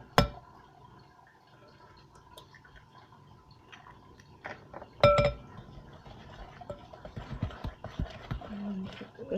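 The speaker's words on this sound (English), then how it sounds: "now we're going to beat in our egg" Egg being beaten into creamed butter and sugar in a mixing bowl for an apricot upside-down cake: soft clinks and scraping of a utensil against the bowl, growing into a quicker, busier mixing rhythm near the end.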